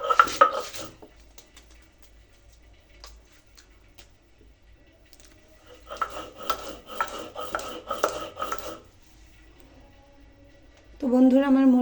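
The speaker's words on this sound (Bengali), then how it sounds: "এখন আমি মরিচটা বেটে নেব।" Dried red chillies ground by hand on a grinding stone, rhythmic scraping strokes in bursts separated by quiet pauses, close and fairly soft, with a voice speaking at the end.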